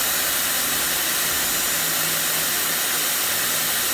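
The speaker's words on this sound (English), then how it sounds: "Once it gets hot, put a bit of the cold air through it." A Dyson Airwrap styler with long barrels blows a cool shot through long, damp hair, a loud, continuous, steady airy whoosh held close throughout without a break.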